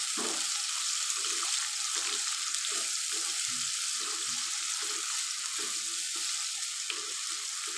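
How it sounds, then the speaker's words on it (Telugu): Ginger paste fries in oil with salt, making a continuous bright sizzle close by, with soft stirring scrapes pulsing underneath throughout. "ఇప్పుడు ఇది మంచిగా ఇట్లా మనము ఆయిల్లో అయితే ఫ్రై చేయాలి. కొంచెం అల్లం పేస్ట్ అనేది ఫ్రై అవ్వాలి"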